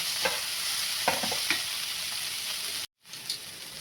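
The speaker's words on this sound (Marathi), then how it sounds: "मिरची घातल्यानंतर आपल्याला घालायचे याच्यामध्ये टमाटर टमाटर पण असं आपल्याला चांगलं परतून घ्यायचं आहे" Tomatoes, green chilli and vegetables sauté in a pan with a constant sizzle and a few sharp stirring scrapes early on, briefly dropping to silence before the hiss resumes, with no voices.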